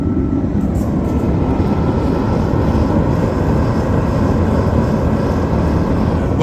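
A Sunfire diesel heater for a shop or garage runs and burns during its first burn-in, giving a loud, steady, continuous roar with no breaks.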